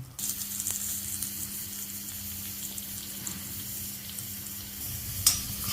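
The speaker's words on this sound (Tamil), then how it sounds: "மிளகு, சீரகம், சோம்பு, சின்ன வெங்காயம், கருவேப்பிலை எல்லாம் போட்டு நம்ம சிக்கனுக்கு வதக்கிட்டு இருக்கோம்" Chicken sautéing for a Tamil-style chicken varuval with black pepper, cumin, fennel, shallots and curry leaves, giving a steady, soft sizzle with a low continuous hum beneath and one brief clink near the end.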